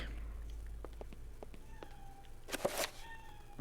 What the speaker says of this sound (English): And a cat whining.